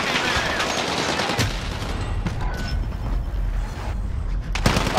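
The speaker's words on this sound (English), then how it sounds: "There's so much shooting in the air!" Rapid, dense gunfire in Call of Duty: Modern Warfare, bursts of automatic shots crackling continuously and loudly, with a heavier boom or two among them.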